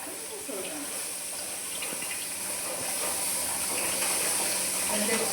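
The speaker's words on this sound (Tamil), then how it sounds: "தண்ணி ஊத்துங்க." Water pours in a steady rushing hiss, close by, growing slightly louder over a few seconds, with faint voices in the background.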